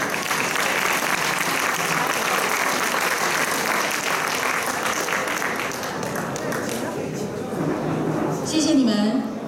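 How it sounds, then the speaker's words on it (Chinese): Audience applauding after a tea-picking dance and line dance at a New Zealand Taiwanese association event, steady dense clapping filling the whole stretch, fairly loud and continuous with a brief swell near the end. "再次以热烈掌声给我们非常棒的采茶舞及拍舞的表演。"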